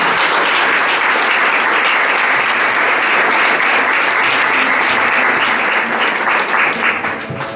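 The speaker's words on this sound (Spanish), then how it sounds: "Un aplauso para recibirlo y empezamos." An audience at a cultural lecture hall in Jerez gives dense, sustained applause, loud and close, clapping evenly for several seconds before starting to taper off at the end.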